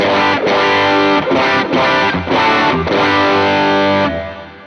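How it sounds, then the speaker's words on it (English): Guitar played through an original Ibanez TS808 Tube Screamer overdrive, a loud, saturated run of sustained driven chords and notes with brief gaps between them, alone with no talking, ending in a fading ring. "So here's the original tube screamer."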